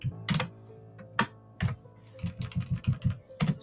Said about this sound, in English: Type it all.